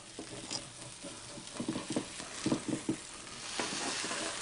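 Stuffed pork chops sizzle faintly in a pan, with a soft patter of small pops and scraping stirs coming in uneven bursts.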